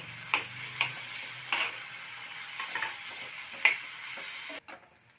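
Onion and tomato fry in a pan with a steady close sizzle, broken by several sharp scraping stirs of a spoon, before the sound cuts off abruptly.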